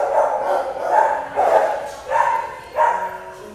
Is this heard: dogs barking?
yes